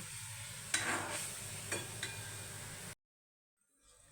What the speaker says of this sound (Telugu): మరికొద్దిగా నూనె వేసుకొని చింతపండు గుజ్జు మాత్రమే వేసుకోండి ఈ చింతపండు గుజ్జును బాగా ఉడికించుకోవాలి